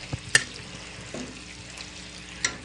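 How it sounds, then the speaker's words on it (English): Greek pork marinated in olive oil sizzles in a hot skillet, a steady soft fry with a few sharp pops and stirring clicks, close by. "You hear the sizzle?"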